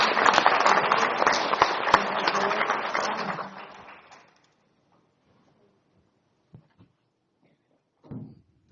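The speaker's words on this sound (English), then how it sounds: "Let's give SRP a round of applause." Applause for SRP at a city council regular meeting, a dense burst of clapping from the room that fades out after about four seconds, followed by quiet with a few small thumps.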